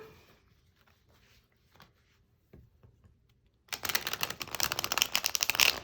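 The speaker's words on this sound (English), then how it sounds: "let's see how this riffle shuffles on camera" A stiff new tarot deck, the Prism Tarot Brilliant Cut, is riffle shuffled near the microphone, a loud rapid flutter of cards in the final two seconds after quiet handling taps.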